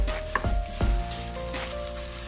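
Ground beef fries in a hot pan with browned onion, a steady close sizzle broken by a few thumps and scrapes as the meat goes in and is stirred.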